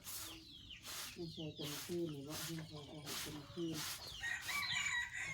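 Chickens clucking in a rhythmic series of calls with a rooster crowing, fairly close and clear, with some birdsong in the background.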